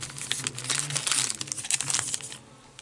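Foil wrapper of a Bowman baseball trading card pack crinkles close up in a continuous, crackling run of rustles that eases off toward the end, with no talk.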